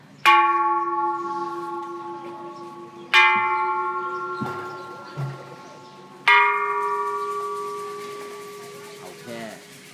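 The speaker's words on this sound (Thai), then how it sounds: "ระฆังนะ" A temple bell struck three times, each strike loud and clear with a long ringing tone that slowly fades, plus a few quieter knocks and murmurs between strikes.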